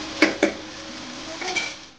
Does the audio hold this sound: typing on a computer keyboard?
no